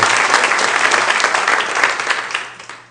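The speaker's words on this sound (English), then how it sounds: "So give yourself a round of applause." A church congregation applauds in a full, dense burst of clapping that fills the room steadily, then tapers off toward the end.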